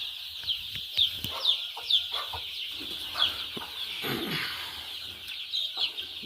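Desi gavran chickens clucking close by, with repeated short clucks and calls in an uneven rhythm over soft farmyard background noise.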